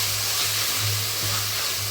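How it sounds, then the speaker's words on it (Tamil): Mint leaves sauté in a hot pan for a vegetable nonbu kanji, a steady broadband sizzle and hiss that stays close and even throughout, with a low hum beneath it and no speech. "இந்த புதினா வதக்கும் போது சரியான ஸ்மெல் வருதுங்க"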